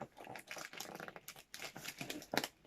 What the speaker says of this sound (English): Rip the sticker off.